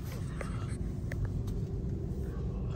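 Slow road traffic heard from inside a vehicle, a steady low rumble of engines with faint, brief higher noises scattered over it.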